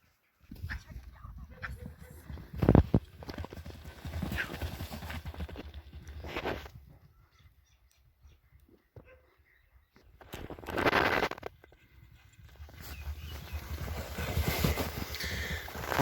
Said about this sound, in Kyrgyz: 4-чү номердеги жылкыны тартып көргөзүүнү биз баштадык.